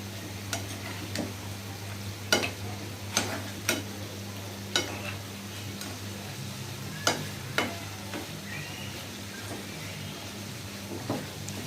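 Chicken curry made with ready-made spice mix is turned over in a pan, producing faint sizzling under a low hum with scattered sharp spoon clicks and scrapes at irregular intervals.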